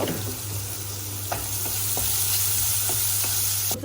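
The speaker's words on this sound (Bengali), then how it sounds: "পেঁয়াজটা ভাজা ভাজা করব" Onions frying in a pan of oil after fish has been fried, a steady close sizzle with a low hum underneath and a few scraping stirs of a spatula, no talking.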